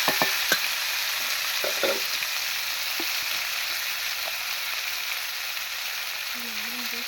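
Cumin paste and whole tomatoes frying in a pan, a soft steady sizzle with a few sharp crackles and occasional stirring clinks early on, heard fairly faint and without talk.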